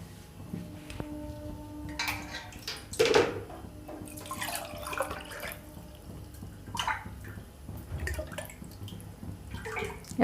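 Water is poured into a kadai on a lit gas stove to make sugar syrup, giving faint, splashy pouring bursts in short intermittent runs, with quieter gaps between them.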